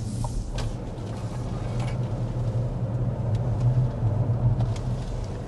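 Cadillac LYRIQ electric car rounding a corner, heard from inside as a steady low road rumble with faint creaks and soft tire noise, no engine note.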